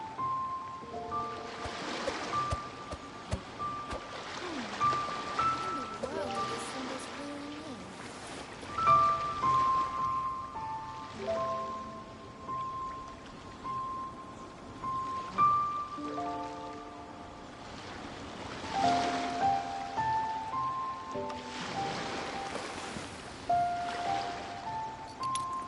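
Ocean waves in the Genshin Impact game, a soft continuous wash of surf under gentle melodic game music with sparkling tones, faint and steady across the whole stretch.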